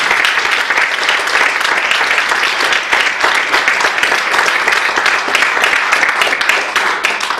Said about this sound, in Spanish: Damos aplausos fuertes al Señor.